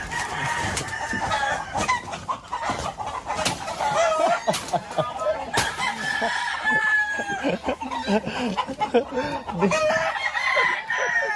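Chickens cluck and a rooster crows repeatedly at a barangay, loud and close, with people talking over the farmyard noise throughout.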